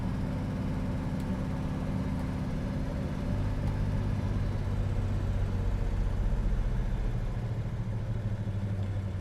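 A 1968 Chevrolet Chevelle SS with a Hurst shifter pulls hard through its gears, the steady engine drone rising and swelling midway with no one speaking over it.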